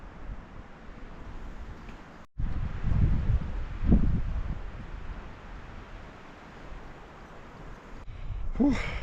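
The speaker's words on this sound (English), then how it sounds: "The wind has not given up." Cold wind blows outdoors in the desert, a steady rushing buffet on the microphone with gusty swells after a brief dropout, loud and close, with no talking.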